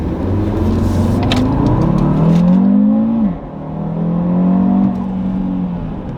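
A G63 luxury rental SUV accelerates hard on a Dubai road, its engine note rising loudly, dipping at a gear change, then climbing again close up inside the cabin.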